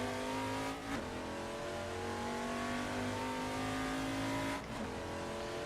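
A Group C touring car, a Ford Falcon in the Assetto Corsa racing game, held at full throttle: a loud, sustained engine drone with rising harmonics, interrupted by two brief dips at gear changes.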